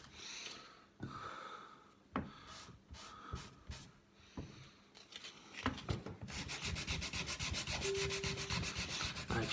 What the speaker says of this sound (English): I will give them all a fine sanding